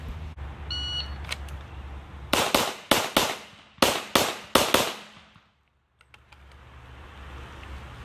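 A handgun drawn and fired at an outdoor shooting range: a shot-timer beep, then a rapid string of about six loud, sharp cracks, each ringing off before the next, followed by quiet.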